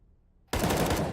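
Sudden loud burst of automatic rifle fire in Counter-Strike, cutting in from silence as a rapid, sustained volley of close shots.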